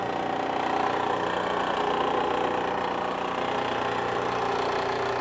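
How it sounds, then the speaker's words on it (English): An electric motor drives a motorized skate braking test rig with the wheels off, giving a steady, even hum with a faint rhythmic flutter, continuous and close for the whole stretch. "First thing we'll do is turn on the motor, making sure that the wheels are off for the time being."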